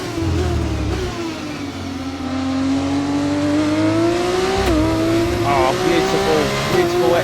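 Open-wheel F2 race cars in an online racing game lobby run wheel to wheel, engines droning and rising in pitch through the gears with a brief tyre squeal, while a voice talks over the racing.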